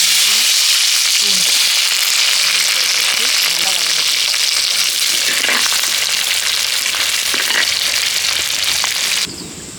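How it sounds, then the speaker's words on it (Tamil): Loud, continuous crackling and spitting of mustard seeds popping in hot oil for a fish curry, a dense sizzle with scattered sharper pops throughout. "கடுகு பொரியுது"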